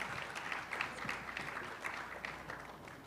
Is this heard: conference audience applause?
yes